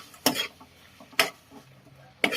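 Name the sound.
stirring guava jam in a cooking pot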